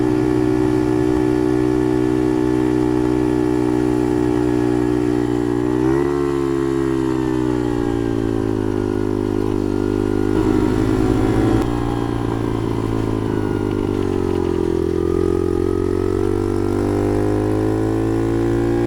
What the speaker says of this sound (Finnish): nautitaan hetki aikaa tuon upean Lifan 50 moottorin murinasta